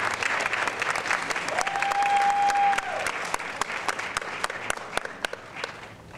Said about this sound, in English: Could we give them a round of applause for one last time?